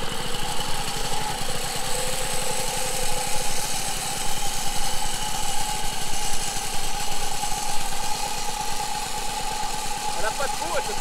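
A 1975 Motobecane 50 V moped's small two-stroke engine idles to warm up, a steady rapid close putter with a buzzy drone that holds evenly throughout.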